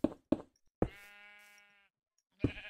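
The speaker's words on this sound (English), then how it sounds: "Don't move, you stupid sheep." A Minecraft sheep lets out one drawn-out bleat, preceded by several sharp knocking thuds and followed by another hit, all close and clear with silence between.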